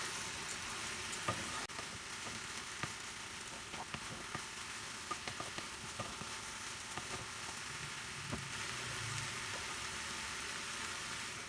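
Crushed curry leaves and chili flakes sizzle in hot oil in a pan while being stirred gently. A steady, dense frying hiss runs throughout, with small scattered pops and faint scrapes of stirring.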